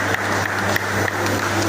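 An audience at an award ceremony applauds an engineer as he comes forward, with dense clapping marked by slightly louder beats.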